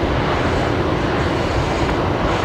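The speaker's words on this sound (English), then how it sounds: "unfortunately a 737-800 today coming in from Auckland. Just about to touch down" A Boeing 737-800 arriving from Auckland about to touch down at Brisbane produces a loud, dense, close engine roar that stays constant throughout the brief moment.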